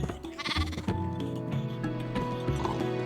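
Sheep bleating in Minecraft, a wavering game-animal bleat heard clearly over a busy layered backdrop of in-game sounds.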